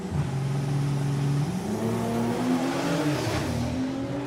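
Six-cylinder drag racing car at the Doorslammers 2024 meet accelerating down the strip, engine pitch climbing steadily through a gear change, loud and sustained over a low crowd background.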